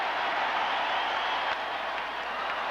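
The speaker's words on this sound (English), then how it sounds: "Now the Fenway crowd gets into it." A Fenway Park crowd at a 2003 playoff baseball game, Athletics versus Red Sox, roars in a dense, sustained wash of cheering and applause that holds loud and even throughout.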